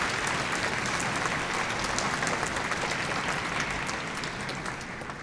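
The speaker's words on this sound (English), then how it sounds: "Can we give him a big round of applause for his support?" An audience at a high school honor band concert claps steadily in sustained applause, dense and even, tapering slightly toward the end.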